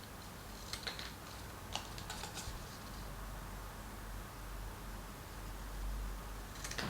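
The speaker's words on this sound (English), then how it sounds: "snip them off with my scissors." A few quick, crisp snips of scissors through paper, clustered early and again at the end, over a quiet room hiss.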